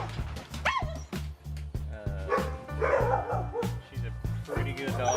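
Several dogs at a Victoria, Texas dog rescue bark and yip repeatedly in a rapid, overlapping chorus, loud and close, while a person talks over them.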